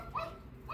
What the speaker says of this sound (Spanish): una disculpa por los perros que se lleguen a escuchar.